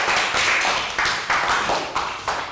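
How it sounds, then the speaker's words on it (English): A classroom of young students clapping for a classmate, with sharp, fairly even claps that come in quick bursts and fade briefly between them, close and alone with no talking. "And round of applause for Pearl"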